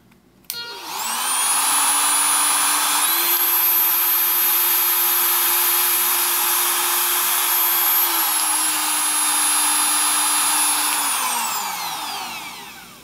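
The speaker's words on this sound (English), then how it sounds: "I'm going to push the button and we'll hear the pitch change in the die grinder." Die grinder whining loudly and steadily up close, its high tone stepping up in pitch when the speed button is pressed, holding there, then dropping back before winding down at the end.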